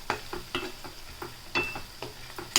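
Garlic paste with turmeric being stirred in a pan for a palak meal-maker curry, giving a string of regular scraping strokes over a soft sizzle, close by and fairly quiet, with no talking.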